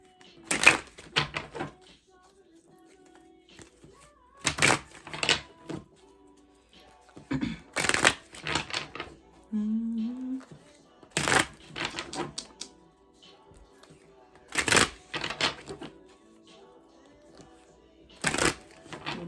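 Tarot cards are riffled and shuffled in repeated bursts, about six crisp shuffles separated by short pauses, close and clear with faint talk between.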